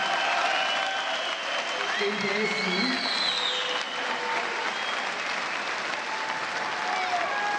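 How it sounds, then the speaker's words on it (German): Loud, continuous crowd applause and cheering in a Dresden boxing arena after a light-heavyweight European title fight, with an announcer speaking over the clapping throughout. "einen großen Applaus für beide Boxer heute"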